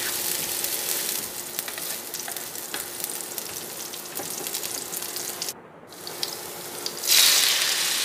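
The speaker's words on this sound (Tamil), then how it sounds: "லைட்டாக ஃப்ரை பண்ணிக்கிறோம். அதோட சப் பண்ண வெங்காயமும் சேர்த்துக்கினேன்." Onions sizzle lightly in a frying pan for a submarine sandwich filling, a steady crackling hiss throughout with a brief dip near the end and a sharper burst of sizzle at the close.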